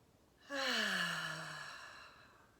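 One deep breath during a beginner yoga session ends in a long, audible voiced sigh that fades slowly, heard close and alone in a quiet room.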